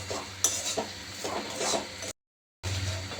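A minced chicken masala mixture with sugar is stirred in a pan, making repeated close scraping and clacking strokes. The sound drops out for a brief silent gap, then the stirring resumes; no voices.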